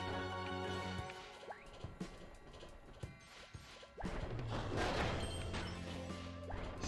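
Objects get smashed in Kirby and the Forgotten Land, with a run of sharp impacts and clatters over game music, then a loud, dense crash of breaking debris that fills the second half.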